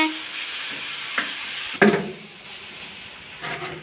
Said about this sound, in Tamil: அம்மா சன்னா மசாலாவுக்கு தக்காளிலாம் வதக்கிட்டு இருக்காங்க.